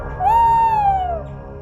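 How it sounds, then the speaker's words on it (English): A tawny owl gives one long, clear, steady hoot that slides slightly down at the end, loud and close against a quiet background. "Tawny Owl"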